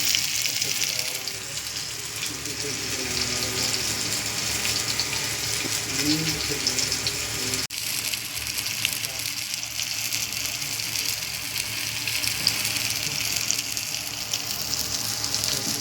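Coated pomfret fish fries in a pan with a steady, loud, watery sizzle that hisses evenly throughout, broken only by faint clatter.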